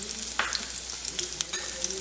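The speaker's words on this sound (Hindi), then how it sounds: "ये आधा चम्मच जीरा है," Half a spoon of cumin seeds drops into hot oil on a low gas flame alongside ground coriander for a carrot and potato curry, giving a soft close sizzle with faint crackles and a brief clink.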